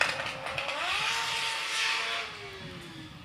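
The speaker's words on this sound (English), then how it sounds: "some combustion action happening on the test track right next to us" Combustion race car engines running on a Formula Student test track, a steady raised engine note with rising and falling pitch sweeps as a car accelerates and passes at moderate distance, with no talk over it.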